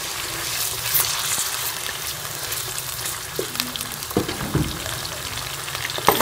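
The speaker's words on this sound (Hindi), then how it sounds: "कढ़ाई में हमने कुकिंग ऑयल डाली है और इसमें हम चिकन डाल के इसको फ्राई कर लेंगे।" Chicken frying in cooking oil in a karahi for Peshawari charsi chicken karahi: a steady, close, crackling sizzle throughout, with a few sharper pops and spatters toward the end, and no talking.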